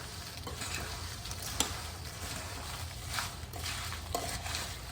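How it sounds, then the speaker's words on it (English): Oyster crackers being tossed with ranch seasoning in a bowl, giving a steady light rustling and clattering with a few sharper knocks, close and alone. "We'll just toss these together."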